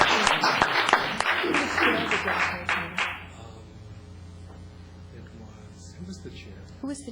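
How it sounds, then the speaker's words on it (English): A room at a town council meeting breaks into a burst of applause for an advisory committee. The clapping lasts about three seconds, then cuts off into quiet room tone. "Applause, please."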